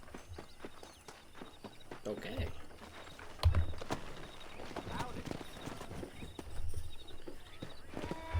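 In the video game Red Dead Redemption, horse hooves clip-clop in a steady rhythm during a horse-wrangling task with a lasso, heard under someone talking.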